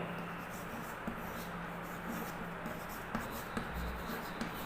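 Chalk or marker scratches steadily on a classroom board during a geometry lesson on triangle area and Heron's formula, with soft repeated strokes and small taps continuing throughout.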